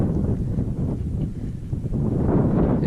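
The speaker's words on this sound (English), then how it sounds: "It's windy up here." Wind buffets a microphone on a Colorado Trail mountain path at about 11,800 feet, a steady low rumble with gusty swells and no voices.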